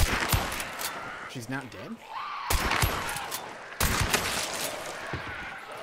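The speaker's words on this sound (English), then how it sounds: "every gunshot right that we do is going to alert people." Gunshots ring out in the video game Hunt: Showdown, several sharp loud cracks scattered across a few seconds amid game noise and a growl, with people talking over the action.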